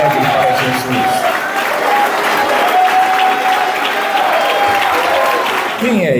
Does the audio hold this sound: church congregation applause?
yes